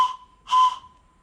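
The small pipe of a homemade PVC train whistle, blown on its own, makes a steady high whistle tone that briefly swells into a louder, breathier burst before fading back.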